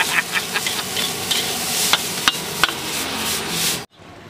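Nasi goreng is stir-fried at a street cart in Tanah Abang, with a steady, close sizzle and scraping of a spatula against the pan, punctuated by sharp metallic clanks, before cutting off abruptly.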